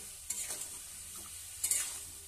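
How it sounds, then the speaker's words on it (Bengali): Fried potato and pumpkin pieces are stirred through a simmering pan for a Bengali pumpkin-potato curry, giving soft quiet scraping strokes over a faint steady sizzle, with two brief clusters of stirring noise close by. "এবার ভেজে রাখা আলু কুমড়োগুলো তুলে দেবো এর মধ্যে, দিয়ে ভালো করে নাড়িয়ে নিচ্ছি"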